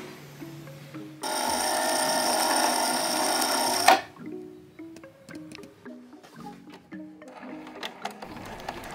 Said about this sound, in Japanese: ギャザーを作りたいので粗ミシンをかけていきます